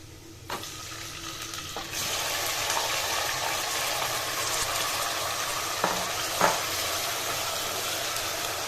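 A mutton marinade of onion, ginger, garlic and poppy paste lands on onions in a pressure cooker over lowered heat. A hiss swells into a steady sizzle with a couple of sharp knocks near the end, and no voices.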